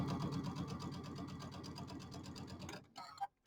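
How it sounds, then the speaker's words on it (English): A sewing machine hems a bench buddy project in one steady, close, continuous run with a rapid even rhythm, stopping abruptly near the end with a few faint clicks after. "I'm just going to stitch down the inside edge of this and do a little hem"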